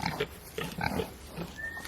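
A female pig on a farm grunts in a series of short, rough, close grunts with brief pauses between them, and a faint high whistle-like tone comes in near the end.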